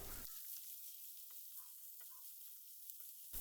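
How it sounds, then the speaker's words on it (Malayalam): Two chopped onions sautéing in a pan for a Kerala vegetarian dish give a soft, steady sizzle with a few faint stirring scrapes, quiet and with no voices. "സബോള നല്ലപോലെ വഴറ്റിയെടുക്കണം."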